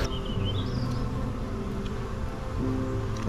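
Steady buzzing hum of honey bees swarming around an open beehive during a hive inspection, a dense continuous drone close by with no talking.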